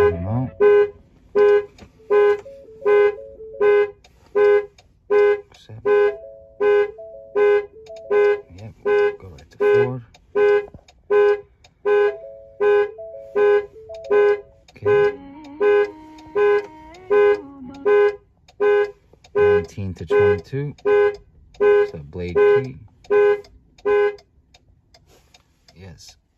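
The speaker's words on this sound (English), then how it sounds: "It is active alarm." A 2021 Ford Ranger's active alarm sounds close by in a steady run of loud, evenly spaced honks, roughly one per second, with a second tone joining partway through before the honking stops.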